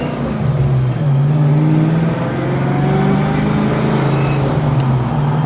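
A 29,000-mile 1988 Ford Mustang GT with an upgraded head and cam package accelerates hard through the gears, its loud V8 drone climbing steadily in pitch close by, with no talking.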